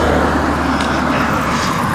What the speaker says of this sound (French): Les voitures, le bruit des voitures.